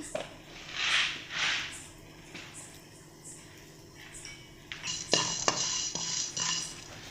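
Pepper being dry-roasted for tomato gojju, a spoon or spatula scraping and stirring it around a metal pan in steady close strokes, with light clinks of utensil on metal.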